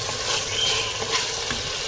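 Food stirred and frying in a pan for an Eid ul Adha meal, with a steady close sizzle and scraping stir strokes throughout, no voices.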